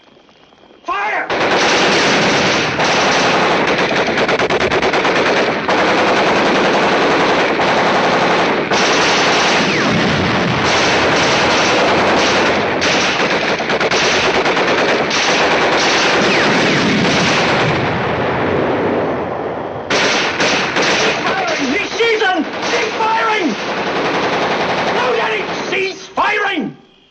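Machine gun fire in a 1951 war film about arriving tanks, long sustained loud bursts with heavy gunfire and blasts, pausing briefly before more rapid firing, with shouted voices mixed in.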